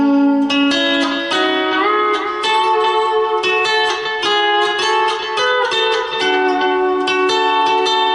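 Lap steel guitar picked back and forth between the second and third strings, a bright, sustained run of plucked notes with gliding slides between them, close and loud, with no one speaking.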